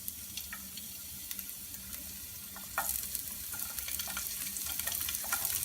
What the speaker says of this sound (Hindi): इसमें हम डालेंगे सबसे पहले लहसुन,